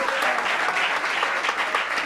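A church congregation applauds, loud and sustained, with clapping that pulses unevenly throughout.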